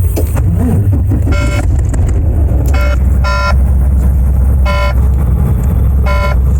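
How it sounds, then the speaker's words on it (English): A truck engine rumbles low and steady after starting while a bright electronic chime, tied to the ABS warning lights, beeps in short repeated bursts over it. "so now we're going to start the truck"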